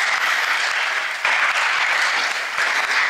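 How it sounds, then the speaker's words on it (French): An assembly applauds a pastor's Pentecost teaching on the Eucharist, a loud, steady clapping from a large crowd that swells briefly twice and carries on unbroken throughout. "Je demande à l'Assemblée de l'acclamer encore pour ce bel enseignement."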